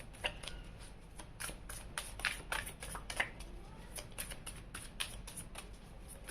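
Tarot cards being shuffled by hand for a reading, a steady run of quick, crisp riffling snaps and soft slaps close up, with no talking.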